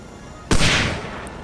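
A single sharp gunshot cracks out during a heavy firefight in the video game Hidden and Dangerous 2, loud and close, with a decaying tail after a quiet start.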